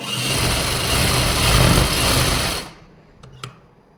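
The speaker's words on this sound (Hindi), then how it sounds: "अब मैं यहाँ से भी एक सिलाई लगा दूंगी और इसकी स्टिचिंग कर दूंगी, एक पंजे की सिलाई लगाते हुए" A sewing machine stitching salwar fabric runs in a steady close whirring buzz for under three seconds, then stops, leaving a couple of small clicks.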